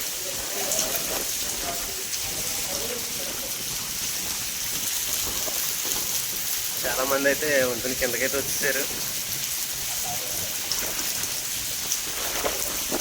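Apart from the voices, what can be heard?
heavy rain under a bridge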